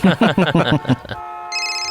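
A telephone rings with a clear electronic tone, close and loud, right after a short burst of someone talking.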